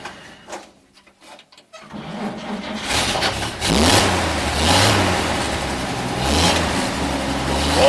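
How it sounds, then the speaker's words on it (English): 1942 Chevy 1.5-ton barn-find truck engine cranking briefly, then catching and running at a rough, choked idle with surging revs, heard from inside the cab, close and fairly loud. "Oh, started right up."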